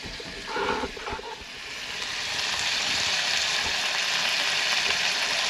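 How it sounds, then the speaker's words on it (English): Bacon and eggs frying in a skillet at a creekside cabin, a close steady hiss and crackle that grows louder and more even, with a few light clinks early on. "Got eggs, got a bacon frying, coffee going."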